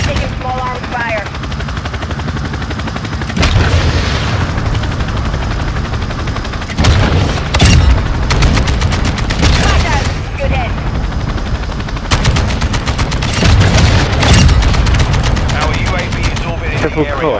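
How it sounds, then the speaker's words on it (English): Small arms gunfire in Modern Warfare 2, bursts of rapid shots recurring over a steady roar of engine or rotor noise, with faint radio-style voices at the start. "We're taking small arms fire."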